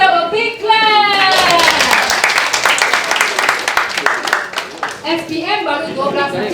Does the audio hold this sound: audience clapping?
yes